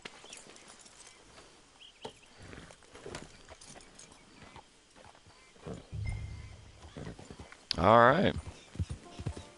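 Horse hooves clip-clop at a walk in the video game Red Dead Online, soft and intermittent beneath ambient game sounds, with a short spoken word and a louder vocal burst near the end.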